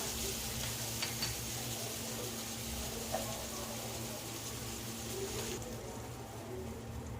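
Butter and ghee sizzling on a hot tawa for toasting pav for street-style pav bhaji, a steady close crackling hiss with a few light scrapes.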